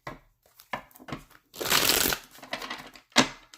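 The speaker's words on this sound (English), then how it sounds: "I didn't like that shuffle. Let me do that again." Short bursts of tarot card shuffling, a few quick riffles and a longer dense flutter in the middle, close and fairly quiet.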